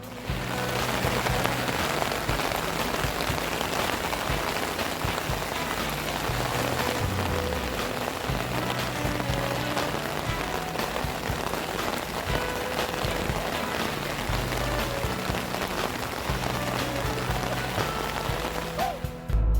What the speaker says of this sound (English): It was raining cats and dogs.